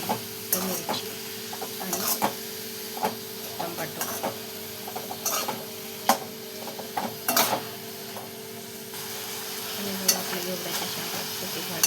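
Green bean pods and onion fry in a pan with a continuous sizzle, while a spoon scrapes and knocks against the pan in frequent irregular strokes.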